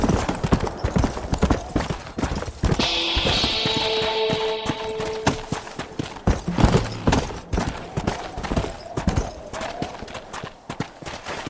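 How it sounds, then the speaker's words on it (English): Horse hooves clip-clop steadily through the Red Dead Redemption: Undead Nightmare game world, a close, rhythmic clatter with a brief whinny-like tone partway through and some busy game sound layered over it. "Wish we could feed the horse."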